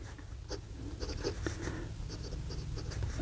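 AmazonBasics fountain pen with a medium nib writing on paper, soft scratchy strokes and light taps in short irregular bursts, quiet and close.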